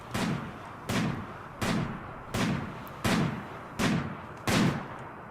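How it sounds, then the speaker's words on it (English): Gunfire in the colony-building video game RimWorld: seven evenly spaced loud shots, each a sharp crack with a booming low tail, repeating roughly every two-thirds of a second with no talk. "What are you shooting at?"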